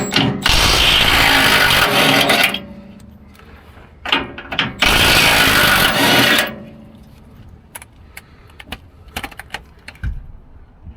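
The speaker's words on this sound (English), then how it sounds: "Let's get these bottom bolts off." A power tool works the bottom bolts of the transmission on a lifted 2019 second-generation Ford F-150 Raptor, giving two loud, sustained buzzing bursts, then scattered clicks and clanks of hardware.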